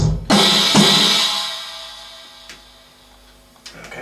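A short drum pattern: two quick hits with a washy cymbal, a decaying ring, then softer taps, played close in a room.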